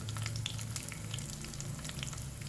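Cumin and mustard seeds sizzle in hot oil in a pan for a groundnut and sesame chutney tempering, giving a soft continuous crackling hiss with tiny pops.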